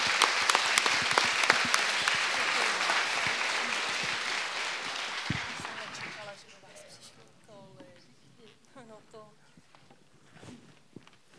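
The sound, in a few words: audience applause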